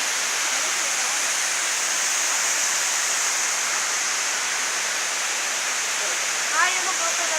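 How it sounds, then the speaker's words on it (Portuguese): Steady broadband roar of the Salto Ventoso waterfall, a continuous dense rush heard alone at close range with no break for the whole stretch. "Cascata de Salto Ventoso."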